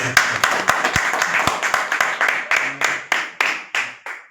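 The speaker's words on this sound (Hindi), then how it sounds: "एक बार ताली।" A small audience at a coaching centre gathering claps in a brief round, with individual sharp hand claps sounding distinctly and fairly close in a quick, uneven rhythm over a few seconds.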